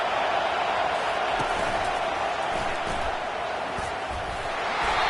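Steady stadium crowd roar from a college football video game during a goal-line stand, a dense, continuous wash of noise with a few faint thumps in it.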